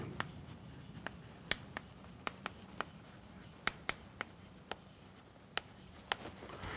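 Chalk or marker writing on a board during a lecture on arithmetic, sharp irregular taps and short strokes at moderate distance over quiet room tone, with no speech.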